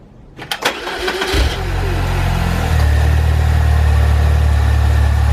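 A Saab 9-3 2.0T engine cranks briefly with a quick starter whir, catches, and settles into a loud, steady idle that holds close and constant to the end.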